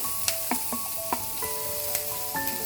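Capsicum of three colours, bell peppers, fries in a pan with burnt garlic noodle ingredients, giving a steady bright sizzle broken by occasional utensil clinks and taps, close and continuous with no speech.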